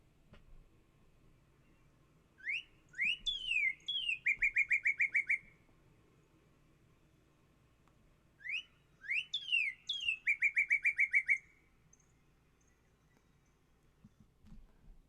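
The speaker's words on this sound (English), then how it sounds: "So that's our northern cardinal." Recorded northern cardinal song played back, two clear phrases each opening with a few down-slurred whistles followed by a fast run of repeated chip-like notes, separated by a quiet gap, with no voices over it.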